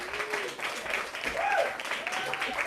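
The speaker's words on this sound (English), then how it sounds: "Let's have a round of applause, everybody." Audience applause at an open mic event, a fairly light crowd clapping with whoops and cheers rising over it, continuous for a few seconds.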